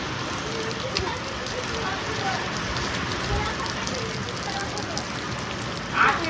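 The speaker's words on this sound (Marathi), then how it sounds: "दादा खूप जोरात पाऊस आलेला आहे" Heavy rain pours down steadily as a dense, even wash of hiss and patter, with a brief louder splash near the end and faint voices in the background.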